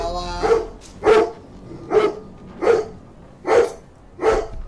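A pet dog barks six times in a steady, evenly spaced rhythm, each bark loud and close, with no talking in between.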